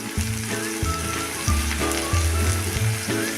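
Drained yellow masoor dal with salt being sautéed in a pan, a dense continuous close sizzle with low rhythmic scraping and stirring sounds, no voices.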